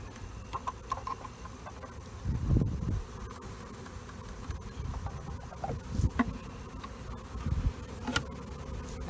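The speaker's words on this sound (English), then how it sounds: "Now I'm not going to move this till tomorrow morning, so these bees will settle down" Honeybees buzz steadily after two nucleus hives are combined for winter: a close, continuous drone with louder low swells as bees pass near, and no talk.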